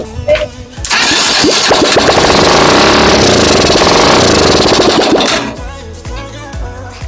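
A Ferrari replica car engine with no exhaust fitted cranks and bursts into a loud, harsh, unmuffled roar for several seconds, then cuts off, with voices faintly before and after.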